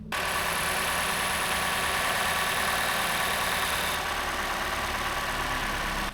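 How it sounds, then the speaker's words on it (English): Toyota Camry engine idling right after an oil change, a steady close mechanical hum with constant vibration throughout, no talking. "So all you're gonna do is start the engine for like 30 to 40 seconds."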